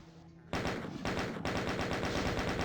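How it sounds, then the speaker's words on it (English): Chain gun fire in classic Doom on an oil drilling rig level, a rapid continuous stream of sharp shots starting abruptly after a brief quiet moment and hammering steadily and loudly to the end. "Break out your chain gun because there are some"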